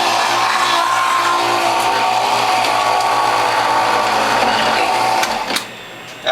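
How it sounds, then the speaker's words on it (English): A WHF juicer fitted with a Near Zero Maxi Shredder cutter shreds carrots with a loud, steady mechanical whirring grind that stops abruptly near the end. "Now I'm going to feed 2 carrots in."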